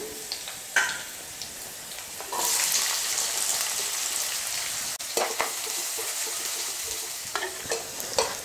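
Chopped onions and curry leaves drop into hot oil, and a loud sizzle surges up and holds while a spoon scrapes and stirs, with scattered clinks and knocks.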